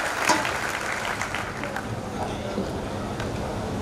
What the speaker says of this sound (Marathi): जावाई या नात्याने आपण जोरात टाळ्या वाजल्या पाहिजे